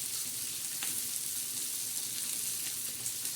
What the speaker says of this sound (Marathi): आता छान असा कांदा मैत्रिणींनो आपण परतून घेणार आहोत.